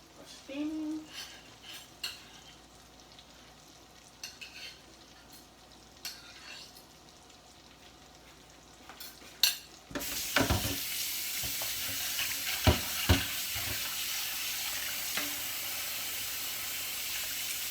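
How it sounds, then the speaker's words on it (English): Dungeness crab legs steaming in a pot with butter melting over them: a quiet start with light clinks, then a sudden steady hiss and sizzle that holds to the end, with occasional utensil knocks. "There goes another patch of butter to just melt into it."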